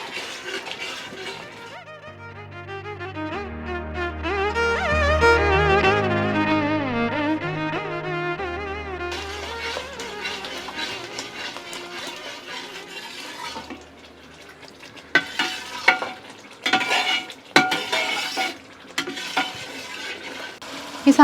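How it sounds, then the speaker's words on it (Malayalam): A spoon stirs thick pookkulal lehyam, a sticky herbal paste, in a pan. Melodic music plays first, then uneven scraping and thudding strokes follow near the end, close and clear. "ഇനി നമുക്ക് നന്നായിട്ട് ലേഹ്യമാക്കി ഇളക്കി എടുക്കണം"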